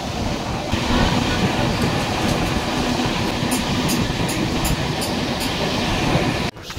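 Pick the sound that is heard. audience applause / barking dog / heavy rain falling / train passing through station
train passing through station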